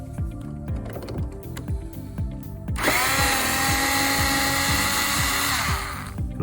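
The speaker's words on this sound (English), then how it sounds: "I'll go ahead and take a screwdriver, and you'll see there's two screws here, one on top, one on the bottom." A screwdriver removes screws from the X motor of a Raven CNC machine: a run of regular ticking clicks, then a loud, steady whirring that holds for several seconds before stopping.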